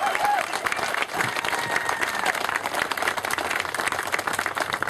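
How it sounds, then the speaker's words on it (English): A crowd at a Republican political rally in Charlottesville, Virginia claps in a loud, dense, sustained round of applause, with scattered cheers and voices mixed in. "join me in another big round of applause for Rob Bell"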